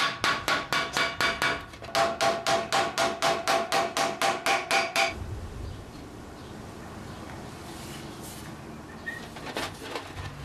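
Rapid, evenly spaced hammer blows from a tinsmith ring on sheet metal at a bench for about five seconds, then stop, leaving quiet room noise with faint rustling.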